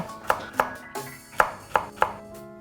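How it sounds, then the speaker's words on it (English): A knife chopping celery on a cutting board, six sharp close knocks spaced unevenly over a couple of seconds, clear and alone with no talking. "And then just run your knife through the celery."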